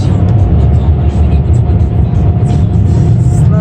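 Touchless car wash dryers at an Esso in Kirkland, QC roar loudly and continuously over a car, a deep windy rush, with a voice speaking briefly above the noise.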